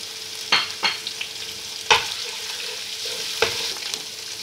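Ginger garlic paste and whole spices hit hot oil left from frying onions, giving a steady broadband sizzle with a few sharp spoon-and-pan scrapes and clinks scattered throughout, fairly close, no voices.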